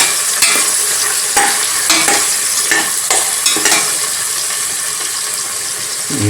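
Vegetables for pulao fry and sizzle in a pan while a spoon stirs them in repeated scraping strokes, loud and close, a steady hiss running underneath with no voices.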